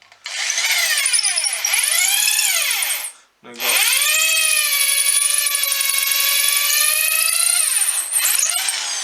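A power drill with a 4 mm bit bores into a Viking blowing horn, a loud sustained whine with pitch sweeps, cut off briefly by a short pause before resuming; a voice speaks briefly.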